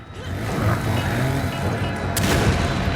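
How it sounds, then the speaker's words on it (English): Grenade blasts in Resident Evil 5 thrown at a thin enemy, with one sharp explosive burst near the end rising out of a dense, rumbling game soundscape. "So I thought 5 grenades would totally be enough."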